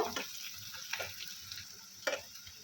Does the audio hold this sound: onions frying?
yes